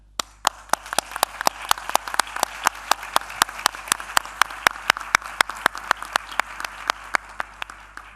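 A small audience at a blockchain forum claps steadily, with sharp, distinct handclaps keeping a fairly even rhythm close by, and no voices.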